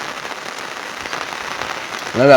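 Steady rain falls continuously on surfaces outdoors near Girnar, a dense even patter throughout, with a voice briefly starting at the very end.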